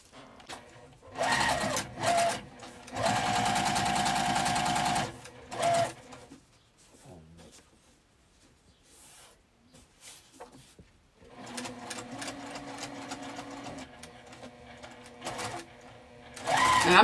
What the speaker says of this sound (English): I'm going to stitch down both sides and to close that pocket.